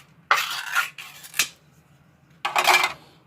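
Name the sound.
cutting open a can of hot and spicy Spam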